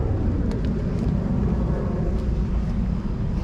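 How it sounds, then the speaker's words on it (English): A 2022 Honda Fury 1300 shaft-driven cruiser motorcycle engine runs at a steady, loud idle, a continuous low rumble from close by with no break or change in pace. "It's a great sounding engine, very powerful"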